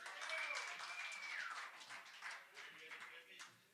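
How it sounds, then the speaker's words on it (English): Audience applause at a jazz concert honoring a guest, broadband clapping sustained for several seconds with a high whistle-like tone riding over it. "Give him a round of applause"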